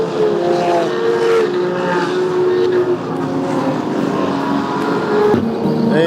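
GT race cars pulling away at the green flag at Circuit of the Americas, a loud, continuous blend of engine roar with rising and shifting tones, heard from trackside with no voices.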